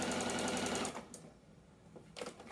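A sewing machine stitches a quarter-inch seam while piecing a checkerboard quilt block, a loud steady run for about a second before stopping, followed by quiet handling noises and a brief whir near the end.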